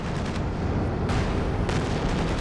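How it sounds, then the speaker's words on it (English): Artillery barrage in the Company of Heroes 2 strategy game, shells dropping on an anti-tank gun: a dense, continuous rumble of explosions with sharper bursts flaring near the start and again later, loud and unbroken throughout. "Artillery barrage dropped on the AT gun"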